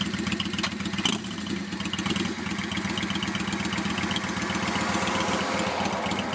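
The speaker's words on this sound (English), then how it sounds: "A push of the electric start to reward you with that beautiful V-twin thump" A Yamaha Virago XV 535 V-twin cruiser motorcycle starts with a brief crank and settles into a steady, close, loping idle with an even rhythmic thump, no talking.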